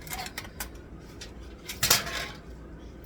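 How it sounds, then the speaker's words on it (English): Aluminum foil peeled off a baking pan of scalloped potatoes with ham and cheese, a few close crinkles and metallic clinks with one louder rustle, otherwise quiet. "we are going to take the foil off of the pan, uncover it"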